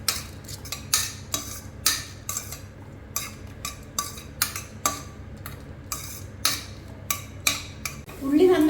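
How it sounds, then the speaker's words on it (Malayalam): Onion sautéing with ginger garlic paste in a pan, with a soft continuous sizzle under regular sharp scrapes and taps of a spoon stirring, about one or two strokes per second. "അത് ചേർത്ത് നന്നായി വഴറ്റുക"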